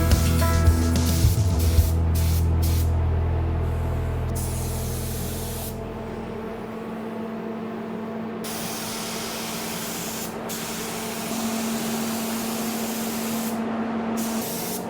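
Spray gun shooting gray paint onto a custom coupler and attachments for a John Deere 210L: a steady, loud, continuous hiss that runs the whole length with only brief pauses and no talk.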